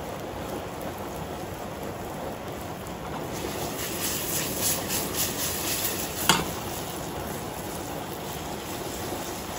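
A steady, loud sizzle of meat frying in a hot pan, with a crackling texture and a brief sharp clink near the end.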